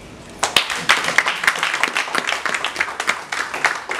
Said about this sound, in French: On va applaudir le mari.